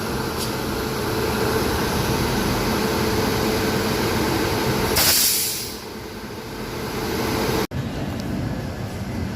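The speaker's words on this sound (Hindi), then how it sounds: "ठीक 7:15 बजे ट्रेन अब रवाना हो गई है नागपुर से।" Telangana Express pulled by a WDP7 diesel locomotive departing Nagpur, heard from inside the coach as a steady low rumble with rolling wheel noise, a brief hiss midway, then a quieter continuing drone.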